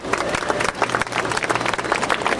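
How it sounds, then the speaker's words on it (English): An outdoor crowd in Hawaii applauds the attendants of an imu, a traditional underground oven, with brisk, dense clapping and some crowd noise, loud and continuous. "How about a big round of applause for our imu attendants?"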